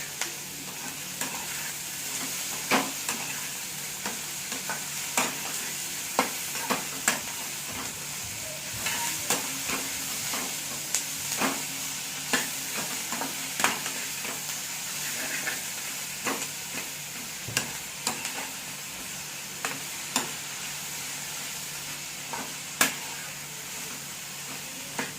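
Onions fry in a pan for tomato chutney, a constant bright sizzle broken by repeated sharp clicks and scrapes of a spoon stirring, close and steady throughout, with no talking.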